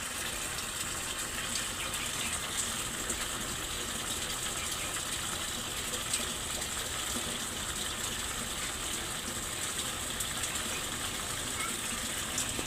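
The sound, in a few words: water filling Samsung automatic washing machine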